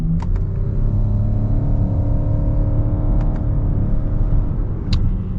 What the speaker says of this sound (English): let's pop it into first and get our acceleration